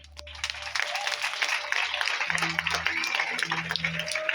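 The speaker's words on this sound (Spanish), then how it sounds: "Yo quiero que le dé una prueba de palmas al Señor." A church congregation claps and applauds in praise of the Lord, steady dense clapping over a sustained crowd din, with a voice speaking over it and low musical tones underneath.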